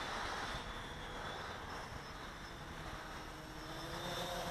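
Bayang Toys X16 Typhoon brushless quadcopter in flight, a steady high buzzing whine of small propellers with broadband wind-like noise, continuous and fairly close, no speech.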